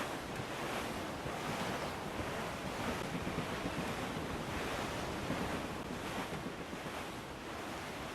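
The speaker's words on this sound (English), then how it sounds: "There's a strong wind now." Strong wind and ocean waves at sea aboard a sailing ship in Assassin's Creed IV: Black Flag, a loud, continuous rushing blow with surging swells of surf and no voices.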